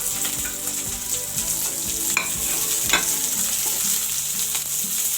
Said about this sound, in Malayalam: ഇനി അതിലേക്ക് നമുക്ക് ഓണിയൻ പീസ് ഇട്ട് കൊടുക്കാം